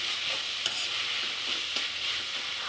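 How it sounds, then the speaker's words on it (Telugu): Grated carrot frying in oil for carrot halwa, a bright continuous sizzle with a few soft stirring taps, close and steady with no voices. "క్యారెట్ తురుముని వేయించుకోవాలి. మనకి నూనెలో వేగినట్టు అరోమా స్మెల్ మనకి తెలుస్తుంది."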